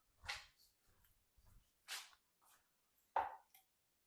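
A dog barks in a home kitchen while its owner cooks, several short sharp barks close by, separated by quiet pauses, with no talking over them.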